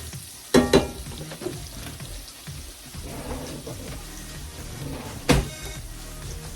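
Black pepper and seasonings frying in oil while being stirred, a steady close sizzle with two sharp scraping clatters of the utensil against the pan near the start and another near the end.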